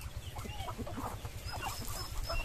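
Faint peeping chirps of newly hatched turkey chicks, scattered and overlapping, above a steady low rumbling background.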